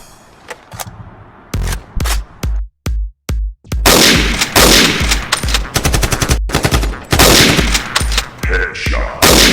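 Rapid gunfire in the video game Chicken Gun, loud and close, with sharp single shots and short pauses opening into sustained automatic bursts.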